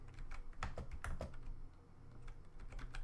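Rapid clicks of a computer keyboard as code is typed, bursts of close keystrokes in uneven rhythm with brief pauses, quiet room and no talk.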